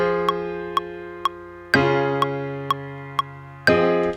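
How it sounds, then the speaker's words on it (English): Grand piano chords ring out and sustain, struck three times with a steady pulse of lighter repeated high notes between them; no voices. "Like I got this grand piano one."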